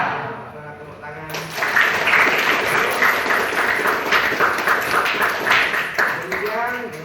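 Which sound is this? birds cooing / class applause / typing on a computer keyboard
class applause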